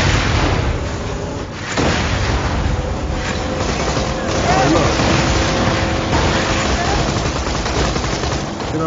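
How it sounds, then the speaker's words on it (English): In Borderlands 2, a vehicle drives along with a dense, continuous roar of engine noise mixed with rapid gunfire and explosion bursts, loud and sustained throughout. "You hit E to get in it, and you drive around. You right click to throw your grenade and blow stuff up."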